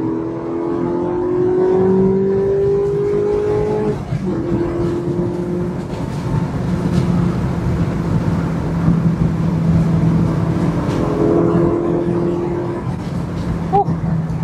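A race car on the Nürburgring accelerates hard from close range, its engine note climbing and shifting through gears in a loud, continuous roar with rushing road and wind noise.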